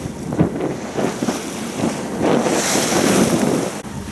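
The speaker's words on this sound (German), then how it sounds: "wir haben vor allem noch rechte Wellen von gut einem halben Meter vom Sturm" Half-metre sea waves left over from a storm wash against a sailboat off the Croatian coast near a lighthouse, with a steady surging rush of water and wind noise, swelling louder in the second half with no voices.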